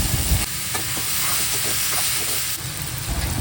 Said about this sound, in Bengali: বয়েল করা সবজিগুলো সব একসঙ্গে দিয়ে দিচ্ছি